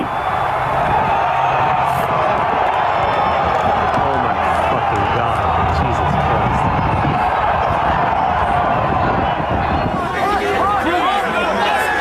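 Crowd of Trump supporters inside the US Senate chamber, some climbing onto the podium, producing a loud, continuous roar of shouting and babble with cheering rising near the end.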